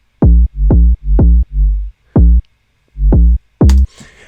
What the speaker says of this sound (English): So just a nice boingy kind of bass.